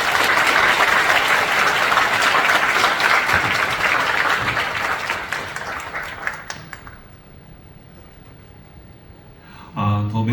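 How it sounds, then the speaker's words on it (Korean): A church congregation at a special broadcast service bursts into loud, steady applause welcoming a pastor, a full crowd clapping for several seconds before it fades out and a voice begins speaking at the end. "함께 박수로 맞이합시다."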